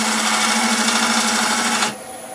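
A skew chisel cuts a UK fan palm blank spinning on a wood lathe, a loud, steady shearing hiss with a low motor hum underneath that stops abruptly as the tool lifts away.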